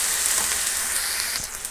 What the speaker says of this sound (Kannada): ಎಲ್ಲ ನೀಟಾಗಿ ತೇವಾಂಶ ಹೀರ್ಕೊಳ್ಳೋ ತನಕ 1-2 ನಿಮಿಷ ಹಾಗೆ ನಾವು ಫ್ರೈ ಮಾಡ್ಕೋಬೇಕು